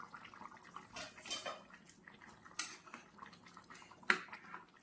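A metal lid comes off a pan of simmering chicken gravy, giving a few sharp clinks and scrapes over a faint bubbling, close by and quiet.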